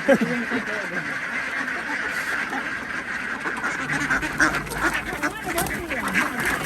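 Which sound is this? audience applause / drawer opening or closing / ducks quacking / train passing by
ducks quacking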